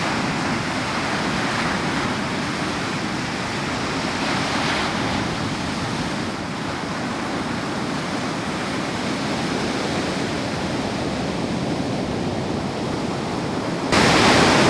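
Powerful sea waves crash and roar continuously against a Scottish shore, a loud, dense wash of surf with wind buffeting the microphone and no voices.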